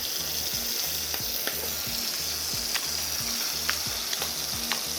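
Steak frying in bacon fat in a hot pan, a dense steady sizzle and crackle with a few sharp spits popping through, loud and close, no talk.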